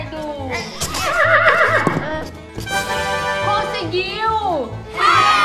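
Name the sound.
horse neighing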